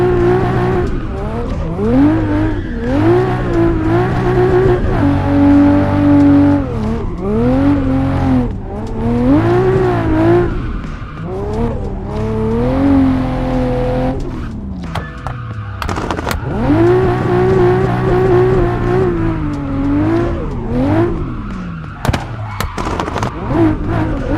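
A race car in a racing video game screams around a track, its engine note climbing and dropping through repeated gear shifts and lifts, loud and close, with tire squeal at times.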